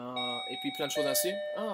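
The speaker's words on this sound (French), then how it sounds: "C'est ma sonnette." A wireless doorbell chimes indoors with steady sustained tones that ring on beneath someone speaking French over it.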